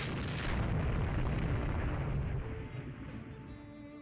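Naval battle in the video game Rule the Waves 2: a dense, sustained roar of distant shell hits and explosions rumbles loudly for several seconds, then gradually fades; no talking.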